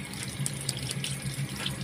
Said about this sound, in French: couler de l'eau chaude pour essayer d'avoir de l'eau qui va tempérer, qui va couler sur le truc